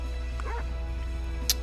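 A pet dog in World of Warcraft, a demon pet from Zul'Drak, gives a short yip and whimpering bark over a steady low game hum, then a brief sharp click.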